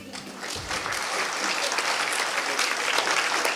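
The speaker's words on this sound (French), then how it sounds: "Et on applaudit une dernière fois." Sustained applause from an audience at a university talent evening in Lille fills the space, dense and steady throughout, with a brief low rumble near the start.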